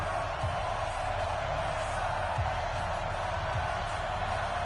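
Stadium crowd noise before a Kansas City Chiefs versus New England Patriots NFL game: a steady, dense roar of many voices carrying on without a break, with a few faint thuds underneath.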